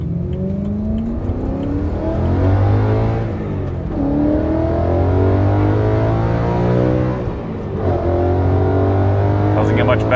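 A BMW E92 M3 engine drones steadily and loud while driving, with rising and falling revs through gear changes, and a voice talks over it.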